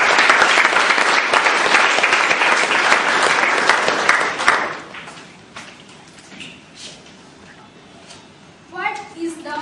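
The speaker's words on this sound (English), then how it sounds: "Round of applause, please." A meeting audience of Toastmasters club members claps for the next speaker, a dense burst of applause lasting about four and a half seconds before it fades, then near-quiet with a few light sounds.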